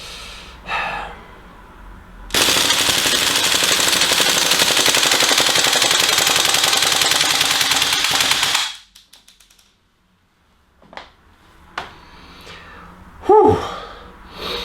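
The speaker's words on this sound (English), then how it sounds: "why don't you do a mag dump with both AKs?" Tokyo Marui AKM gas blowback airsoft rifles run on propane fire a loud, continuous rapid burst lasting about six seconds, then stop abruptly, followed by a few scattered clicks, handling noises and a breathy exhale.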